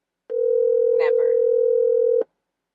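A single steady telephone tone from an unanswered call sounds for about two seconds, loud and unbroken, with brief voices faintly underneath.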